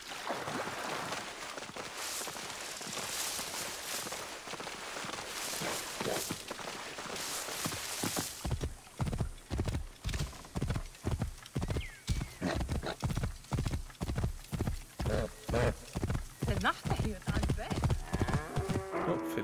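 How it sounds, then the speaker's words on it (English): Horse hooves in Assassin's Creed Origins beat out a steady, quick, evenly spaced clip-clop that starts about halfway through and runs to the end, loud and close, after a stretch of ambient game sound. "I have a horse."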